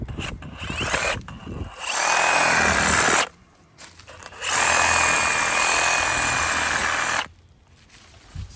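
Power tool cutting a small half-inch root down in yard dirt, with two long, close, loud grinding bursts of a few seconds each, separated by brief pauses, with scraping and clatter before the first burst.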